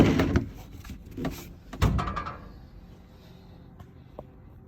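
A few wooden knocks and slides as drawers are pushed shut into a mobile car wash rig, then quieter settling noises fading into near silence.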